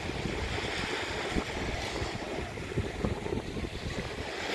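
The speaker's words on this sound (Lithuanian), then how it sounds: "Jūra banguoja." Sea waves washing onto the shore at Pāvilosta on the Latvian coast, a steady rolling wash with low rumbling surges, mixed with gusty wind noise on the microphone, continuous and fairly close.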